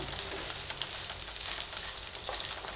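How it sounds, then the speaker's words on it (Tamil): Onions sautéing in a pan for peanut chutney, a steady dense sizzle with faint stirring scrapes throughout, close and continuous with no speech. "வெங்காயம் ஓரளவுக்கு நல்லா வதங்கிடுச்சு"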